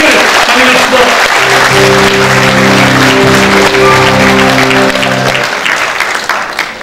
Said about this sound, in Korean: 다시 한번 큰 박수로 모두를 환영합니다.